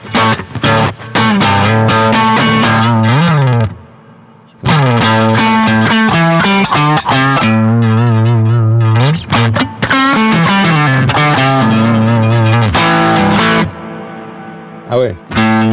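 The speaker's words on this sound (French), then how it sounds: "si je veux m'amuser à changer de type de reverb, on a une reverb room assez courte" Electric guitar played through a Boss GX-1 multi-effects pedal set to reverb, loud distorted chords and riffs ringing with a wash of ambience, one short pause midway, no talking.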